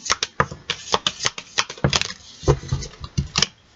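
Oracle cards are shuffled by hand for a reading, a quick close series of riffling slaps and flutters in an uneven rhythm.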